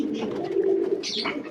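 Pigeons give a soft, low, rolling coo up close at feeding time with chickpeas scattered for them, a single drawn-out call followed by a brief rustle.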